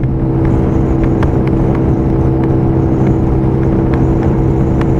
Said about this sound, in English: Now I'm pegging it. Throttle wide open.